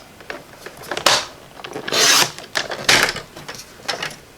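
Paper trimmer blade slicing through cardstock for handmade thank-you cards, several short rasping cuts in quick succession, close and fairly crisp, with brief pauses as the sheet is turned.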